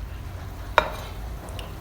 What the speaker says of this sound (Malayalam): സ്പൈസസൊക്കെ ഒന്ന് വറുത്തെടുക്കാൻ ഇതാ ചീനച്ചട്ടി അടുപ്പത്ത് വെച്ചിട്ട് എണ്ണയൊക്കെ ഒഴിച്ച്